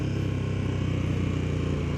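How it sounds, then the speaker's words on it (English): A 2024 KTM 1290 Super Duke GT motorcycle engine drones steadily and loud throughout, a continuous low pulsing rumble with no talk over it. "Oh, this bike sounds so gnarly."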